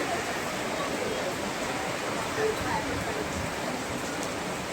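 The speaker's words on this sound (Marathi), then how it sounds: "बाहेर पाऊस पडतो एवढा" Steady rain hisses outside, a constant even wash of falling water with no breaks.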